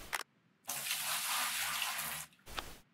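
Water sloshing in a pan while panning dirt for gold in a gold rush video game: a loud, steady two-second rush of water framed by short splashes before and after.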